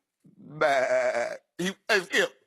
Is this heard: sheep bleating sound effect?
yes